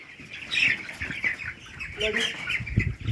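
Twenty-day-old chickens on a poultry farm chirp and cheep in a busy, overlapping chorus close by, with faint voices in the background.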